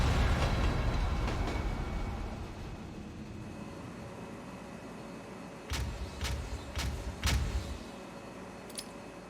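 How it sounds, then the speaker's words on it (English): A freight train in Batman: Arkham City rumbles steadily at close range. A short run of sharp metallic clanks and knocks breaks through near the end, and no one speaks. "The freight train."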